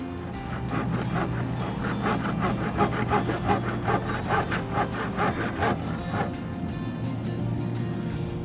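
Wood being cut by hand with a saw for raised garden beds outdoors at night, rhythmic rasping back-and-forth strokes at moderate volume over a low steady background hum.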